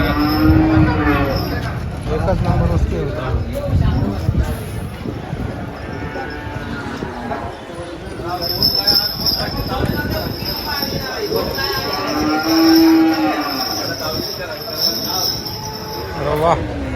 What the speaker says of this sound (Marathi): पॉवरफुल दुधाची गाय